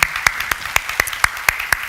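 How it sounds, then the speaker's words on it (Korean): Close, loud rhythmic clapping in a church service, about eight sharp claps spaced evenly, like a few people clapping in unison nearby. "뜨거운 박수로 우리 환영하겠습니다"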